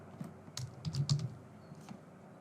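Typing on a computer keyboard while filling in an online form: a short run of close, light key clicks in an irregular rhythm, with a few separate taps and no talk.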